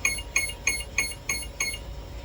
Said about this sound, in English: you take the throttle back down to low throttle, and you'll hear a couple of more beeps